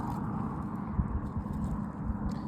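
Soft clip-clop of donkey hooves on ground, an irregular run of light thuds at moderate distance, with faint background noise.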